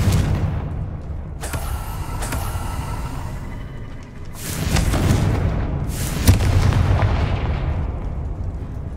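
Confringo explosive spell blasts in the video game Hogwarts Legacy go off as several loud booming bursts, each with a rumbling tail, separated by short gaps and standing alone without talk.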